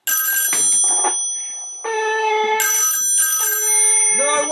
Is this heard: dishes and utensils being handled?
no